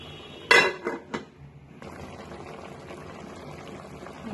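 Fish curry cooking in a pot on a stove: a sharp metallic clatter and clinks of utensils against the pot, then a steady low sizzle and bubbling that carries on alone.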